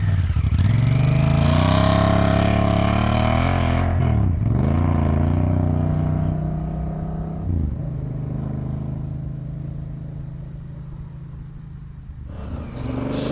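A Honda Africa Twin motorcycle pulls away in Saudi Arabia, its engine revving loudly up close, then shifting and fading into a quieter, steady drone as it rides off.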